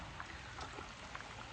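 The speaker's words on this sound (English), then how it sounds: "But it's raining, so I have to cut this harvest short." Steady rain falls over a backyard garden with ginger and turmeric growing in it, a dense, even hiss of drops with scattered individual patters, quiet and continuous throughout with no one talking.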